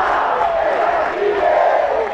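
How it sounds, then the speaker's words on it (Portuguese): A beach tennis crowd at an ITF BT 400 match in Maceió roars and shouts in a dense, sustained wall of cheering, loud and close throughout. "Torcida gritando, Marco Garavini"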